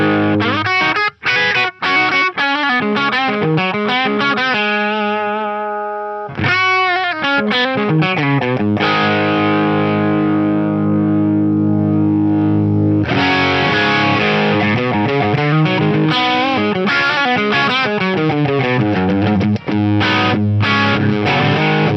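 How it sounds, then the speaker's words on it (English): Overdriven electric guitar through a Lexicon MPX-1 rack unit plays chords and riffs with a warm, slightly gritty crunch, rhythmic strums and a held chord mid-way, loud and up close. "kick in some OD on top of my clean sound"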